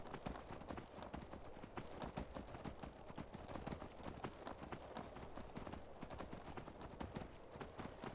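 Horse hooves gallop in Skyrim with a steady, rapid clip-clop rhythm, loud and continuous throughout with no talking.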